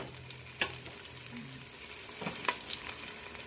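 Garlic and onion sauté in a pan, a quiet steady sizzle with a few sharp clinks of a utensil stirring against the pan.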